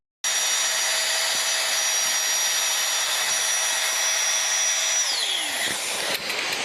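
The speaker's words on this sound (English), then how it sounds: "This is the standard one that I use to blow up pool floaties in the beach ball." A rechargeable mini air pump inflating a beach ball gives a steady, close, high-pitched whirring whine for about five seconds, then winds down and stops; no speech.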